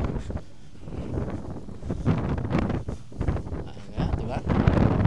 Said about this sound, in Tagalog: Sea breeze